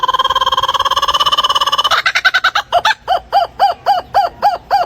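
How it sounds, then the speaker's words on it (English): A blue-winged kookaburra calls loudly up close, starting with a fast, steady trill that breaks into a rhythmic series of separate, barking cackles, about a dozen in all. "Blue-winged kookaburra."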